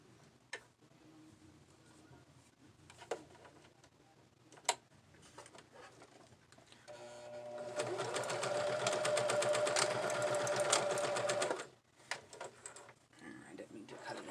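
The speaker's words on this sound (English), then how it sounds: "I'm going to sew across that line." A sewing machine runs close by for about four seconds, stitching across a sewn line on fabric for DIY curlers, a rapid even whir with soft ticks and clicks before and after.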